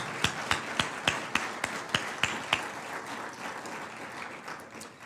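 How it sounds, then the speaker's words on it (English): University audience applauding faculty at a state-of-the-university address, starting as a handful of distinct sharp claps in a brisk rhythm and then merging into a softer, steady wash of applause from a large hall. "let me just have everyone give a round of applause again to the faculty"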